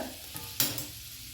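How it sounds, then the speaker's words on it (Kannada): Butter sizzles on a hot tawa in a brief, fairly quiet burst, with a soft steady hiss broken by a sharp crackle partway through, close by and without speech. "ತವಾ ಬಿಸಿ ಆಗಿದೆ, ಅದನ್ನು ಬೇಗ ಬಟರ್ ಮೆಲ್ಟ್ ಆಗ್ತದೆ ನಿಮಗೆ."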